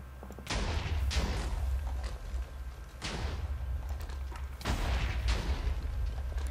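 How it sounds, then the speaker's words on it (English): TNT explodes during a Minecraft TNT Wars match, a run of deep booming blasts at irregular intervals, fairly loud and heavy, with no talk. "that was Phantom TNT."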